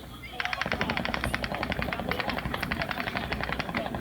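Rapid automatic gunfire rattles in sustained bursts, loud and continuous, with a voice faintly underneath and a crack-like onset at the start.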